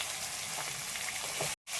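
Food frying in a pan, a steady close sizzle that runs evenly before cutting out abruptly near the end and then resuming.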